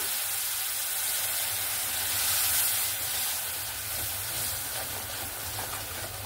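Spice paste frying in a pan for a prawn and banana-flower ghonto, hissing and sizzling steadily after a splash of water, a loud, broad steam hiss that swells slightly midway and holds throughout without speech.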